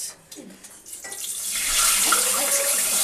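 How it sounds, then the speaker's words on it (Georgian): Hot water pours from a tap, starting after a brief pause and swelling into a steady, close splashing rush that fills the rest of the moment. "მე დავამატებ ცხელ წყალს"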